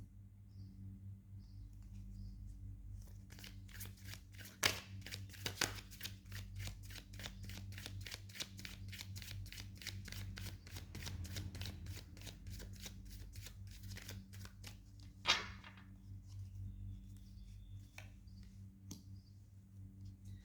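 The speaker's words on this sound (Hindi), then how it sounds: "बॉटम ऑफ द डेक से पुल करेंगे हम दो कार्ड्स." A deck of tarot cards is shuffled close up, a long run of quick, rhythmic soft card riffles and flicks with a few louder taps, faint and steady under a low background hum, no talking.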